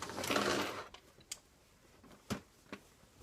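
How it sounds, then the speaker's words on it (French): Overlock serger running along the edge of a pillowcase: a short burst of rapid mechanical whirring stitching up close, followed by a few isolated clicks and taps, with no voices. "comme j'ai la surjeteuse, je vais utiliser la surjeteuse."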